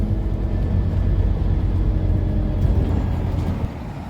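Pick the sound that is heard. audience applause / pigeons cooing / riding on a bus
riding on a bus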